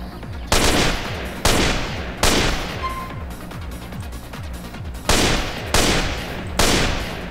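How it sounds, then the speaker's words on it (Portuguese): Hitman-pack rifle fire in GTA San Andreas: several loud, sharp gunshots spaced about a second apart, each with a decaying tail, over a faint background. "Temos aqui este novo rifle, que é o Cut Gun. De Hitman também, exclusivo dele"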